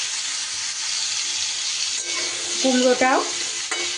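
Vegetables with pumpkin stirred and frying in a pan with very little oil, giving a continuous sizzle with scraping stirs. A short spoken word cuts in partway through, and a clank of the utensil follows near the end.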